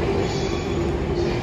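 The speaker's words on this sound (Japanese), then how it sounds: "これが登山鉄道なんだ" Continuous rumble and clatter of a Hakone mountain railway train rolling past nearby, with a steady metallic whine running through the noise and no voices.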